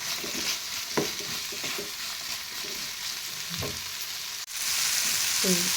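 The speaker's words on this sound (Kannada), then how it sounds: "ಈಗ ಅದನ್ನು ಅದ್ರೊಳಗೆ ಹಾಕಿ ಫ್ರೈ ಮಾಡ್ಕೊಂಬಿಡಂತ್ರಿ." Steady sizzling of coconut, tomato and onion frying in a pan, with occasional scraping stirs and a brief clatter near the end.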